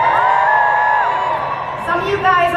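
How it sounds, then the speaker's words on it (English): An audience screams, whoops and cheers in response to a presenter, with high drawn-out yells rising over a dense crowd roar that continues throughout. "let me hear you scream"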